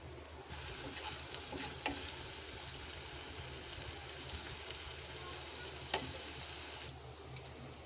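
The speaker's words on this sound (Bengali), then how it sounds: "তেল দিয়ে পেঁয়াজ দিয়ে দিলাম।" Onion frying in a small amount of oil, a quiet, even sizzle with a few soft stirring clicks, steady from start to finish and heard alone.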